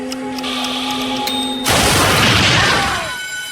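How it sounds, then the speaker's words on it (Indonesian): A loud, roaring explosion of a Ford truck in a film bursts in after a steady mechanical hum, sustaining a dense crashing rumble for over a second before fading. "harus merelakan truk Ford miliknya meledak membunuh beberapa orang penjaga gedung Yunwoo"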